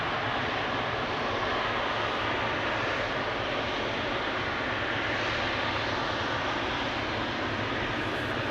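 A Qatar Cargo airplane at Amsterdam Schiphol Airport roars continuously, a loud, broad engine rumble that holds steady without a break.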